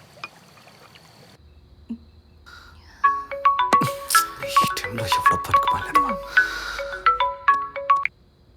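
A phone rings during an outgoing call in a Telugu crime thriller film scene: a repeating electronic ringtone melody, clear and fairly loud, plays for about five seconds after a quiet opening.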